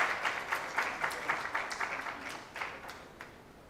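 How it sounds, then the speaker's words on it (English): A conference audience claps to welcome a professor walking up to speak, the applause moderately loud and steady for a few seconds before thinning out. "can we please welcome him with a round of applause?"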